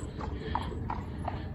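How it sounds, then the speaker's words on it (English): A horse and buggy's hooves clip-clop on pavement in Lancaster in a steady, even rhythm, four distinct hoofbeats at moderate distance over a low traffic rumble. "to my left I hear a buggy, horse and buggy"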